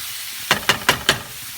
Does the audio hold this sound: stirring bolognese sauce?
yes